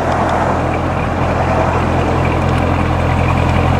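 A 2017 Chevrolet Corvette Stingray V8 idles close by through its quad exhaust, a steady, rumbling, low throbbing note that holds constant and loud with no talking over it.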